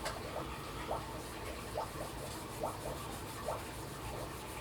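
Soft cloth rubbing polish along guitar frets, a series of short, brisk swipes repeating roughly every second over a steady low hiss, close and fairly faint.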